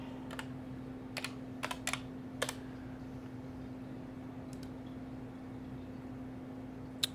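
A few quiet keystrokes tap on a computer keyboard in short bursts, with a steady low hum running underneath and long pauses between the clicks.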